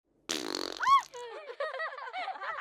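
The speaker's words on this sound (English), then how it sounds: "the machine played a little fart sound" A fart machine hidden in a teacher's chair lets out a sudden comic fart sound, a brief buzzing blurt followed by warbling, springy squeaks that trail on for a couple of seconds.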